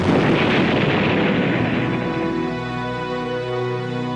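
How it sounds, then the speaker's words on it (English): A briefcase bomb detonates in one heavy, close blast, a loud broad roar that slowly thins into a low lingering rumble, with no voices. "When the bomb exploded at 12:42 p.m"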